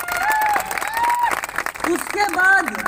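An audience at a Mi Lifestyle direct selling company event claps loudly and continuously, while a voice talks over the applause throughout.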